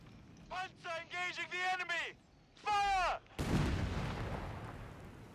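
A mine detonating in Company of Heroes 3, a sudden broadband blast that rolls into a long, decaying rumble, preceded by other game sounds with harmonic tones.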